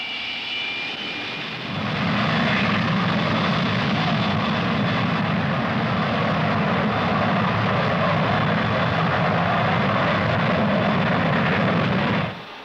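A Rolls-Royce/SNECMA Olympus jet engine runs in Concorde ground tests at the Villaroche research center near Paris, building from a lower hum to a loud, sustained, roaring drone that continues without a break.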